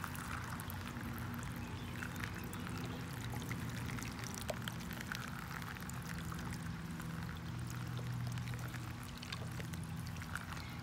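Running water rinsing blue cyanotype solution off a print, a steady, continuous splashing wash that stays even in level from start to finish, with no speech.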